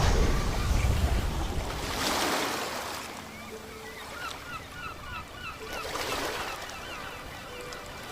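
Ocean waves wash in and recede along a shore, two soft surges with wind, and faint bird calls can be heard behind them.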